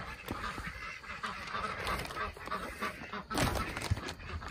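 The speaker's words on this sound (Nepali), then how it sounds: "त्यो चाहिँ हाँस रहेछ है, हाँस डक्स" Ducks out in the open quack and honk repeatedly, with fairly loud calls rising over a busy background of other farmyard noise, one burst stronger near the end.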